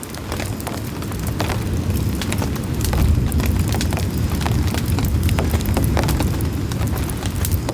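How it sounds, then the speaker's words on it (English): Thunder rumbles through a heavy mountain rainstorm, a deep continuous roll under steady loud rain drumming on a tent tarp after hail, sustained without a break. "There's more thunder."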